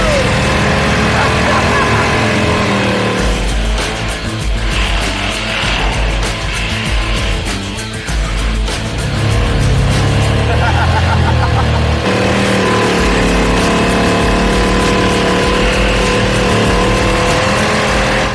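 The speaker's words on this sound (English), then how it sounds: "We didn't drive this engine 3 feet before smoking tires." A 1979 Ford Ranchero desert basher roars loudly while its tires smoke, engine revving hard and rising in pitch, with people cheering and talking over the din.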